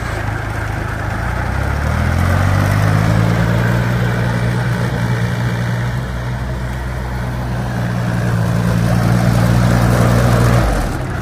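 A 2012 Chikusui Canycom S160 crawler carrier's engine pulls away, a loud steady mid-pitched drone that rises in pitch twice as it drives off, with no talking.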